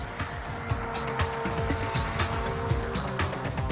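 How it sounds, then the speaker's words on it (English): Performance car engine heard as a loud, busy mechanical roar with a steady drone and rapid rhythmic pulses, plus a few sharp squeal-like accents, with no talking over it. "Under the hood of this car is the latest in a long line of performance engines"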